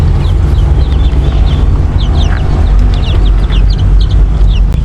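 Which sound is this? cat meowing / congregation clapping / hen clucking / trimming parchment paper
hen clucking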